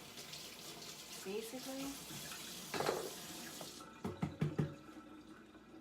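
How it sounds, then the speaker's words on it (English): Kitchen tap runs into a sink while celery is rinsed of dirt, a steady moderate flow with brief water clatter and splashes near the end, a voice speaking briefly over it. "You're going to take the celery and you're just going to rinse all the dirt off"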